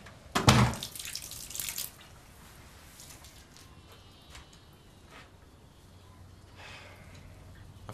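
Water gushes loudly into a sink for a second or two, then cuts to quiet with faint drips and small splashes trailing off in a still room.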